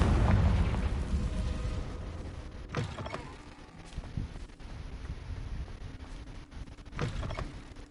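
A blasting-spell explosion in a wizard fantasy scene, a deep booming burst at the start that rumbles and fades, with a few sharp cracks and pops following. No one speaks.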